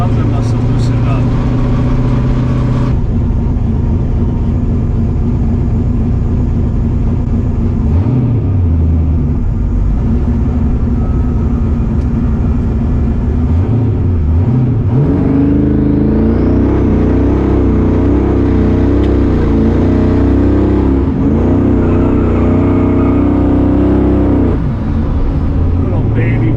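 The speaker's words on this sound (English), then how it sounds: "Little baby burnout." A car makes a small, weak tire burnout, its engine droning throughout and rising in a brief rev near the middle, with a voice talking over it.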